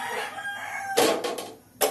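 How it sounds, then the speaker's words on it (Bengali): Roosters kept at the house next door crow twice, loud and fairly close, following a steady background hum. "এই পাশের বাড়িতে মুরগি পুষেছে, সে সমান এই মোরগগুলো ডাকতে থাকে সকাল থেকে একদম রাত্রি অবধি।"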